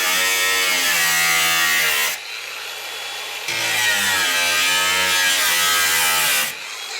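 Angle grinder cutting through the rear door panel of a VW Crafter van during a glazing fit, a loud harsh buzzing whine in two long bursts with a brief lower hum between them, close and alone.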